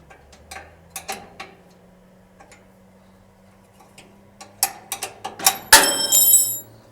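Metallic ticks and ratcheting clicks while a ground connection is loosened on a Weber Genesis II gas grill, sparse at first and then a quick, louder burst of clatter near the end.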